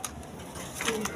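Pigeons of a short-beaked breed coo softly in a seller's pigeon enclosure, low murmuring calls close by with other bird chatter and a faint human voice in the background.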